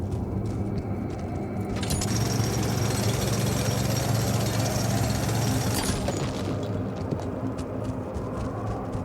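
A drill charge blasts through a rock wall in the video game The Alters, giving a loud sustained rumbling, crackling roar that swells after the start and fades near the end.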